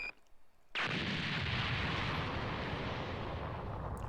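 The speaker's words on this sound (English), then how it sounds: "Have a taste of Super Vegeta's Big Bang Attack!" Super Vegeta's Big Bang Attack from the video game Dragon Ball Z: Kakarot bursts into a huge, sudden explosion that then roars on as a loud, sustained blast, with a faint whoosh before it.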